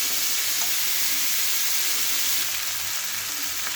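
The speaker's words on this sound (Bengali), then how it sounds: "পেঁয়াজগুলো দিয়ে আমি আরেকটু ভেজে নেব।" Onions fry in a pan for chirer polao, a flattened-rice breakfast dish, giving a loud, steady hissing sizzle that stays even throughout with no talk.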